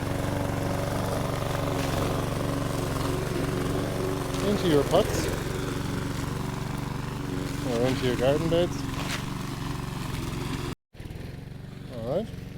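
A tractor engine drones steadily in a garden, a low mid-level hum under a person speaking, with a brief dropout near the end.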